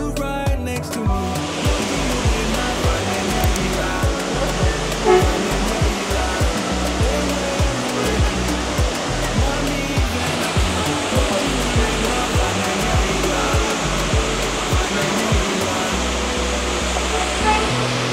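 Concord Falls, a waterfall in Grenada, roars as a loud, constant rush of falling water close by, dense and unbroken throughout.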